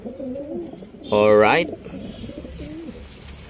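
Pigeons coo in a loft, a loud close burst of throaty cooing in the middle with softer calls around it, while a person talks.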